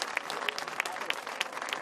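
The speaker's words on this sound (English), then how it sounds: "It's going to be a massive round of applause, a massive cheer" Crowd applause with scattered cheers and whistles fills a Moto3 race trophy presentation at Valencia, a steady dense clatter of clapping throughout.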